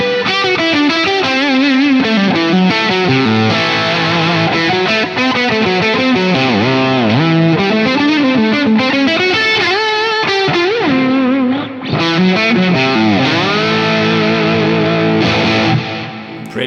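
Electric guitar played through a germanium fuzz pedal boosted by a Vertex Ultraphonix, a thick, saturated lead riff with bending notes and chords, loud and continuous with no talking.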